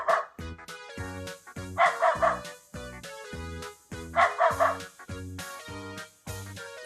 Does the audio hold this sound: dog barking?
yes